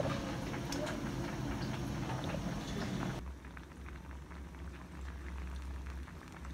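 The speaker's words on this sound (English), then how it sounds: "I'm frying the my plantain." Plantain frying in a pan in a home kitchen in Nigeria gives a continuous hissing sizzle with fine crackles. The sizzle is loud and dense at first, then turns noticeably quieter and thinner halfway through.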